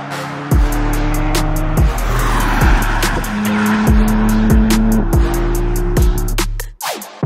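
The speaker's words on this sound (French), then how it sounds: "Il paraît que BMW m'a prêté le break le plus rapide sur le Nürburgring" BMW M3 Touring estate car driving hard on a circuit: a loud, close engine roar rising through the revs with sharp gear changes, a brief tire squeal and abrupt lift-off near the end.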